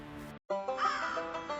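Crow caws from a Halloween animatronic scarecrow figure: a short harsh call, a brief silence, then a longer, louder drawn-out caw, clear and close with no talking.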